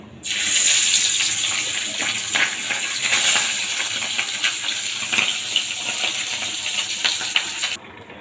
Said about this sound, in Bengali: এবার মাছটাকে আমি ভাজবো।